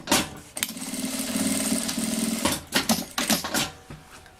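A sewing machine runs a steady stitching burst while sewing a seam on a child's backpack, followed by shorter stop-start runs and handling noises close by.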